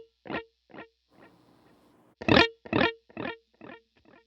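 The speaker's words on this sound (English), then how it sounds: "I first have more of a brighter eighth note delay" An electric guitar played through a bright eighth-note delay set to a medium mix. A few plucked notes and a strummed chord are followed by a string of echoing repeats that gradually fade away.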